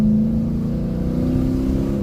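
A Dodge Challenger R/T with a V8 engine accelerates hard, giving a loud, close, steady roar with a rising tone over two seconds and no voices.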